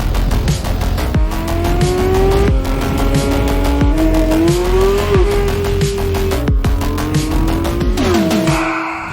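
A Porsche 911 GT3 RS sports car drives close by, its engine revving loudly through rising and falling pitches with shifts between gears and tire noise, sustained throughout with no talk.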